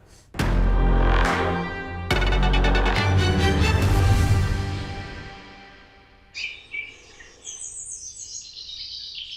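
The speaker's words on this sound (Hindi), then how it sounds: "हॉटी ने आज चिड़िया सुनाई, वरना रोज में जो एक इरिटेटिंग सायरन था ना वो।" Recorded birdsong played as a morning wake-up sound in a reality game show house, bright repeated chirps and trills over loud broadband sound that fades, with higher chirps continuing near the end.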